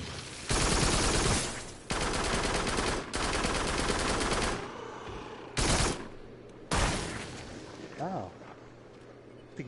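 Gunfire in the VR shooter game Farpoint, several loud sustained bursts of rapid shots separated by sudden gaps, close and dense, ending in quieter sporadic shots with faint background sounds.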